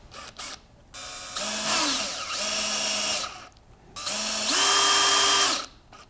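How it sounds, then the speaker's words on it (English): A power driver runs guitar bridge screws into the body of a Partscaster build in two close, sustained bursts, each whining up in pitch as the screw seats, with short quiet gaps between. "I use a driver to get the screw started."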